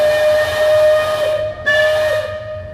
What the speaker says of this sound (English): Sorry, I can't talk over the whistle.